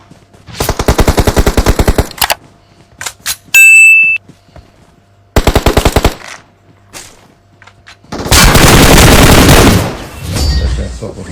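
Machine gun fire in PUBG Mobile Ultimate Royale: loud, close bursts of rapid shots broken by gaps, with a metallic ding and a longer roaring volley near the end.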